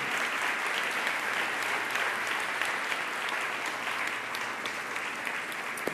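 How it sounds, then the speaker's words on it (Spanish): A church congregation applauds in praise at a Sunday worship service, a dense, steady wash of many hands clapping that holds at an even level throughout, with no voices standing out. "Vamos pues a darle un gran aplauso al Señor"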